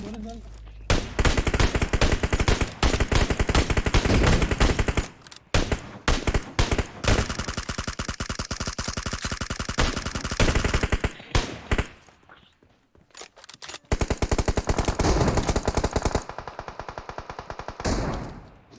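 Dense automatic gunfire from a PUBG Mobile match in Bluehole mode, long rapid bursts broken by short pauses and a near-silent lull, with voices talking over the shooting.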